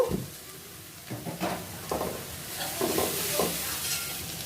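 Taro stirred into garlic and green chili paste frying in a pan: steady oil sizzle with several scraping stir strokes, close and moderately loud, and no voices.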